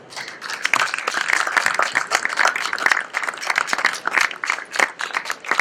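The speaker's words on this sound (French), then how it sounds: "je voudrais que Sa Majesté entende nos applaudissements de là-bas" Crowd applause with dense, uneven clapping that swells and dips, moderately loud and without talking.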